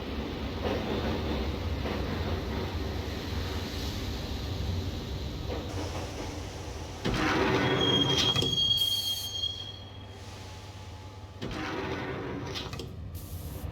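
Subway train ride in the Max Payne video game: a continuous rumbling carriage roar with metallic wheel squeals and screeches, loud and steady, with shifts in intensity as the train moves.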